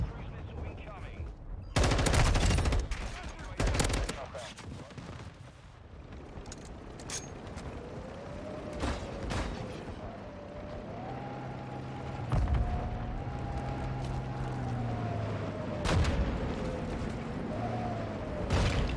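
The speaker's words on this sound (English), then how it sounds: "Cruise missile incoming." Explosions and heavy gunfire from a cruise missile strike in Call of Duty MW2, with loud blasts early on, then continuous rumbling fire and a rising whine over a busy battle.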